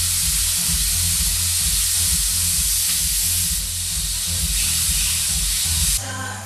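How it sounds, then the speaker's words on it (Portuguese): Water poured into a pot of sautéed oxtail gives a loud, steady sizzle and hiss with rising steam, constant for several seconds before it eases near the end. "E agora eu vou colocar água para poder cozinhar"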